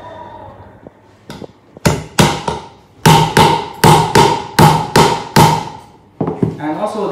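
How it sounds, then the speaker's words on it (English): Repeated hammer blows from an INGCO multi-function hammer driving a nail: a few tentative taps, then a steady run of about eight loud, sharp, evenly spaced strikes close by, with faint talk at the end. "We'll bring some nails here in our tools box and the hammer with our multi-function hammers."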